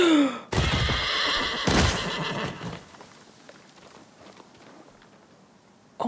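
A horse in the video game Ghost of Tsushima lets out a loud, rising neigh and whinny, followed by a second sharp cry. Quieter hoof clatter and game ambience continue afterward.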